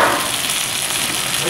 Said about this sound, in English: they love to do the sizzling